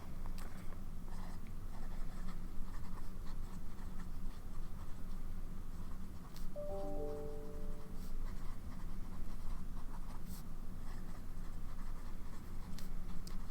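Fountain pen with a medium nib writing on paper, a faint continuous scratchy stroking sound held close over a steady background hiss, with no talking.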